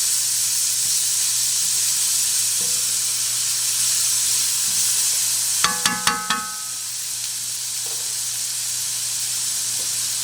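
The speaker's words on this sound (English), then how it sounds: "we're just going to saute these until they're a little bit translucent" Garlic sautéing in a hot pan, a steady close hiss and sizzle with a low hum underneath, broken midway by a quick run of four sharp metallic clinks before the sizzle settles back, no voices.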